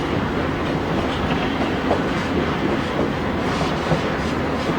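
White Pass & Yukon narrow gauge train running on rails along a mountain route past waterfalls near Skagway, a steady close rumble of wheels and carriages with faint rhythmic clacking throughout.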